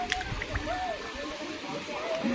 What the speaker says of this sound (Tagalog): Flowing water naman to.